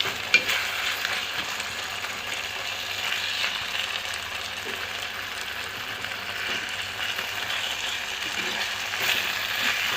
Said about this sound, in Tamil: இன்னும் கொஞ்சம் நல்லா வதங்கட்டும்.